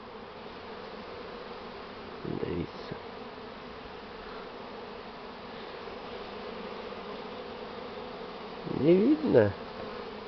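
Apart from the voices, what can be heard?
swarming bees buzzing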